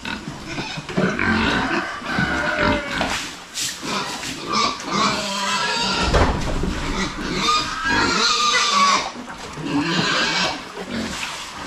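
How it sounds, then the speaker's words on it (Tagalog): Pigs on a farm grunt and squeal together, a busy run of close oinks and shrill cries that keeps on, with a little voice heard faintly. "May isa tayong baboy na hindi kumain"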